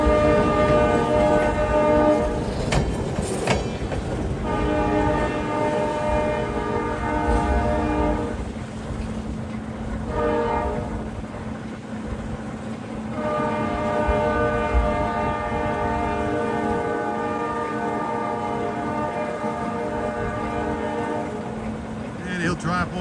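East Penn Railroad freight train on a lumber branch line in eastern Pennsylvania: a steady rumble of locomotive and rolling cars with sustained multi-tone horn blasts, a couple of sharp clanks, continuous and fairly loud throughout.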